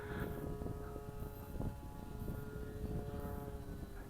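An ICE-STOL tunnel wing RC model airplane climbing in flight, with a steady whining motor and propeller drone heard from a distance, fairly faint and continuous with no talk.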